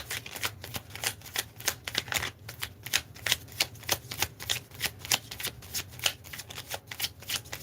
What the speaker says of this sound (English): sometimes I shuffle one way and shuffle another way